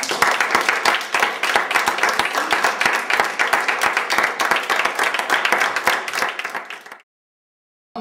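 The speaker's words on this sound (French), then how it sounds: "Je vous demande de les applaudir." Audience applause for visiting Quebec filmmakers at a film festival in France, dense steady clapping for about seven seconds that then cuts to silence.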